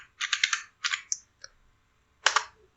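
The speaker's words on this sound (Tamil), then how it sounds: "இந்த பேஜில் மேலே வந்து சர்ச்சில் கோலாப் அப்படின்னு டைப் பண்ணுங்கள்." Close, crisp keystrokes on a computer keyboard come in three quick bursts of rapid typing separated by short pauses, with one isolated tap in between, in an otherwise quiet room.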